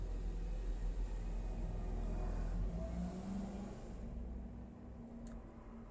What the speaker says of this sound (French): vous entendez la circulation de partout, mais bon, on peut pas faire autrement. J'ai ouvert la fenêtre pour que ça aère.